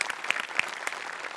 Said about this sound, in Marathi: मस्त, खूप टाळ्या.